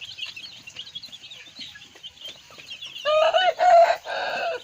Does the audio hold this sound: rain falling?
no